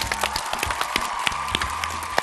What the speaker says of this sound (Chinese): 掌声欢迎三位